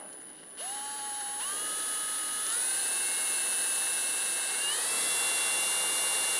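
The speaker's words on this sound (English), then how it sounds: "So we're going to go ahead and drill this out." A high-pitched power drill whine drilling out a control arm bushing on a 2000-2006 Toyota Tundra, climbing in pitch in steps as it speeds up, steady and close, with no talking.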